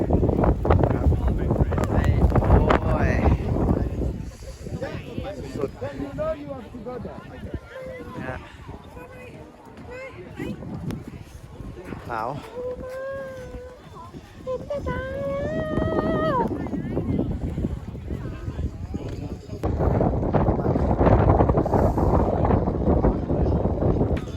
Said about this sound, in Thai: ตอนนี้หิมะบวกลมนะฮะแรงมาก